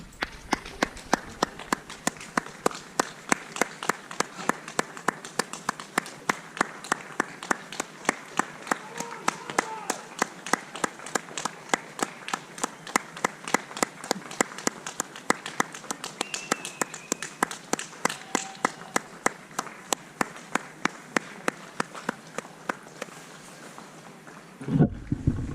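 People clapping outdoors during a Covid-19 lockdown evening, a long steady run of sharp claps that sound like many hands at a distance, with faint background noise and a louder thump at the end.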